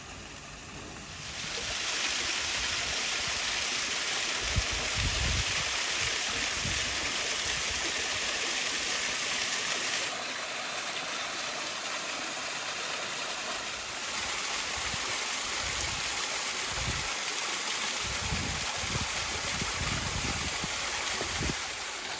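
Continuous rushing water from a waterfall, an even hiss heard up close, with a high whine cutting in and out over the roar.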